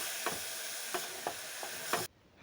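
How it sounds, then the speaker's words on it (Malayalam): Carrot halwa with milk is stirred in a pan, the spoon scraping in about five soft, regular strokes over a steady low sizzle, with no voices. "നല്ലപോലെ ഇട്ട് ഇളക്കണം എത്ര ഇളക്കാൻ പറ്റുമോ അത്രയും ഇളക്കണം"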